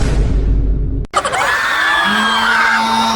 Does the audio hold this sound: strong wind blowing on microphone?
no